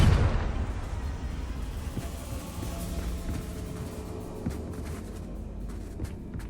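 A Confringo fire spell is cast in the video game Hogwarts Legacy: a single sharp blast opens the clip, then a low rumbling roar lingers with faint crackles.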